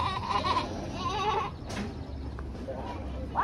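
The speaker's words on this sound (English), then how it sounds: "You see the goat?" Goat bleating at a farm petting area, a few wavering bleats with people talking nearby and livestock around.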